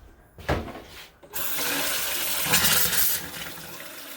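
Water gushes from a tap after old gate valves were replaced with press-fitted ones, starting with a couple of sputtering bursts and then settling into a steady, close rush that swells and eases slightly.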